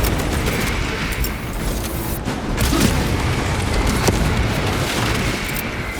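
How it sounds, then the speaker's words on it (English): A frag grenade goes off in Space Marine 2 amid sustained, dense battle noise, with heavy booming blasts rolling over a constant loud roar of combat. "Frag grenade deployed."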